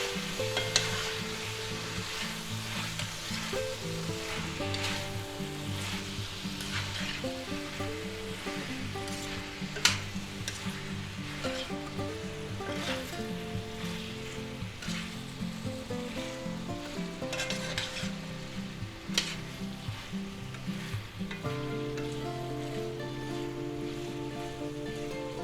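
Chicken, celery and mushroom stir fry with cornstarch sizzles steadily in a hot pan while being stirred, a continuous close frying hiss with scraping stir sounds, music playing underneath throughout.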